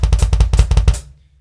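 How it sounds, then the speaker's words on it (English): A Roland TD30 electronic drum kit's hi-hat on a fixed sound setting fires a quick run of about a dozen crisp, identical hits over deep double bass pedal thumps, then cuts off abruptly. "that is the sound of your hi-hat no matter how hard you press your pedal down or let go."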